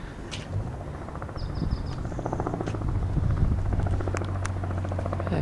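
A helicopter drones steadily in the distance, its low rotor hum building slightly, with faint birds and insects chirping around it.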